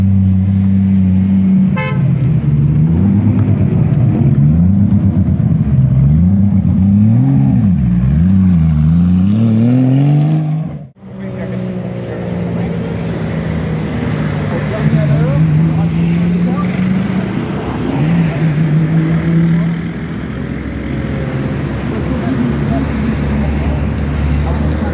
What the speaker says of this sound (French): Il y a deux anciennes Porsche qui vont commencer.